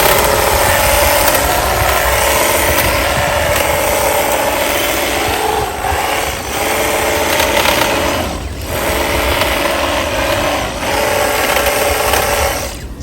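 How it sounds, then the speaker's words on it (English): An electric hedge trimmer pruning a large English elm bonsai into a dome shape, a loud, steady buzzing motor running continuously close by with brief dips as the blades move through the foliage. "So that is how bonsai is made, with an electric hedge trimmer"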